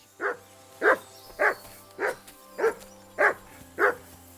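A dog barks seven times at an even, steady pace, each bark short and moderately close, over a low background hum.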